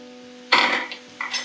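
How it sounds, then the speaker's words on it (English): Chilies tipped into hot oil with well-browned fried onions for a Goan chana gravy, sparking a sudden burst of loud sizzling that eases off, then flares briefly again, over a steady low hum. "so I'm going to add the chilies"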